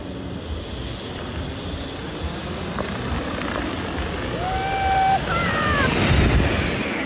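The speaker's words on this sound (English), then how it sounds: "the last operational C-123 narrowly avoids disaster during a low pass at the Geneso Airshow" The last operational C-123 transport aircraft makes a low pass at an airshow, a droning propeller-engine roar that grows louder and nearer with wind noise, while faint whistles sound over it.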